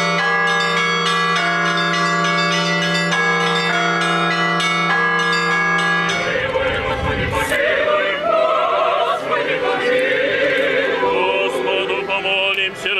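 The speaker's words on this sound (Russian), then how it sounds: "под звон храмовых колоколов состоялся крестный ход вокруг храма" Orthodox church bells ring during a procession around the church: a regular melodic peal for about six seconds, then a louder, denser jangle of overlapping bells with crowd noise beneath.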